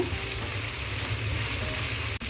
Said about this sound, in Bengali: এখন একটু ভালো করে নেড়ে পেঁয়াজটা একটু ভেজে নিব